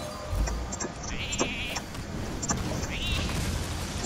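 Cartoonish sheep bleats from a polymorph spell in the card game Hearthstone, two short wavering baas over game sound effects while someone talks.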